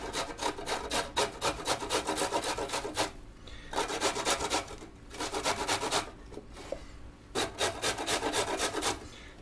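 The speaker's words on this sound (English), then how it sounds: "Then we're just going to take a grater, kind of the fine grate on here." Food rasped against the fine side of a hand grater in quick bursts of rhythmic scraping strokes, close and crisp, with short pauses between three or four runs.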